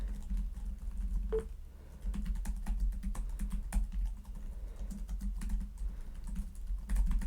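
Steady run of crisp, light key clicks from a MacBook Neo scissor-switch keyboard, typed at an even pace and heard close up with no talk.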